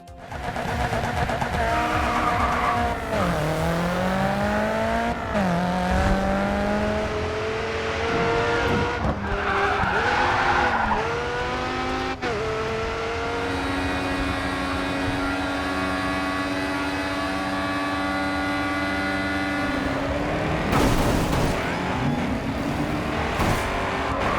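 Racing car engines in the video game GRID 2 roar and rise in pitch through gear changes, with tire squeals and skids, loud and continuous throughout.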